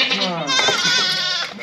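A sheep on a farm, a ewe about to give birth, bleats close and loud. One long, wavering, drawn-out cry fills the moment, with a human voice faintly mixed in.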